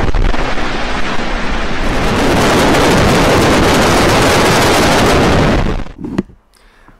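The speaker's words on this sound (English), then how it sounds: "You get the idea as to how much awesome raw power that rocket must pump out." A SpaceX Falcon Heavy rocket engine test fire; a loud, continuous distant roar like broadband rushing thunder, steady for several seconds before dropping away abruptly, with wind buffeting the microphone.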